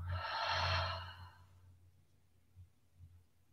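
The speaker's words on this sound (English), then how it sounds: "Take an open mouth exhale." A single open-mouthed exhale at the end of a yoga flow, breathy and close, fading out within about a second and a half and followed by quiet with a couple of faint low thumps.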